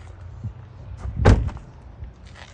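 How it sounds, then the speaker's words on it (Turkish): A car door shuts with a single solid thud, close by, in an otherwise quiet setting with faint background rustle before and after. "Evet bu kapı kısmını da kapatalım."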